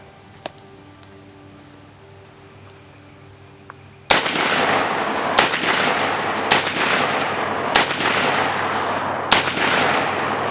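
Five loud rifle gunshots aimed at a target crack out at a steady pace, each sharp report followed by a short ringing decay, after a few quiet seconds of faint outdoor ambience with a couple of small clicks.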